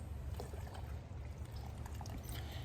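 A pot being filled with water for a Solo Stove Titan camp stove, heard as a continuous close splashing pour over a low rumbling background, with no talk.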